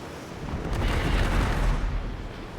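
Ship guns fire in the naval combat game World of Sea Battle, a loud, sustained rumbling boom that swells and rolls on for a couple of seconds.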